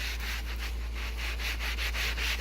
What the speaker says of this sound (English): Don't be afraid to really scrub it really good with these